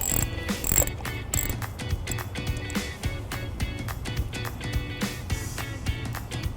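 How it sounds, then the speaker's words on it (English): A 10mm socket ratchet turning off the positive battery terminal nut on a 2016 Ford Escape gives off rapid, steady clicking that goes on throughout, close and fairly loud. "we're going to go ahead and take a 10mm socket, carefully put it over the nut on the positive side of the battery and take it off here"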